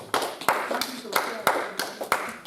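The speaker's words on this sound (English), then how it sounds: "Clap your hands and celebrate God." Hands clapping during a church service, a handful of sharp, uneven claps spaced about a third of a second apart, fairly faint and close, with no talking.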